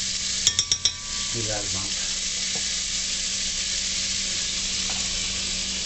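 About two tablespoons of butter sizzle in a frying pan for Salisbury steak, a steady close hiss that opens with a few quick utensil clinks and runs under a brief spoken remark.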